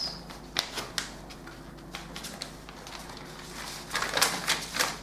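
Paper being creased and folded for a sewing dart, a run of soft crisp taps and rustles, growing louder and busier toward the end.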